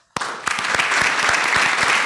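Audience at a research and policy seminar applauds a guest named Guillermo, a dense, steady burst of many hands clapping that starts abruptly and holds loud and even.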